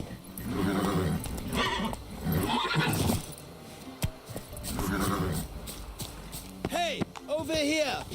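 A horse in the Witcher 3 video game whinnies and snorts loudly, with galloping hoofbeats and game music or effects layered underneath, close and prominent.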